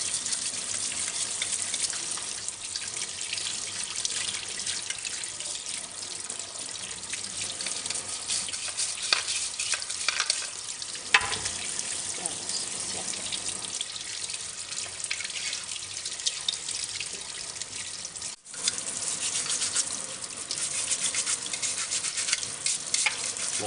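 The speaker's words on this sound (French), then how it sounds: "on utilise la brosse qui est livrée avec l'appareil, qui est spécifiquement dédiée au lavage de l'appareil" A cleaning brush scrubs the parts of a Slowstar juice extractor, likely under running water, giving a steady wet swishing and splashing that continues almost without pause and sits close and fairly quiet.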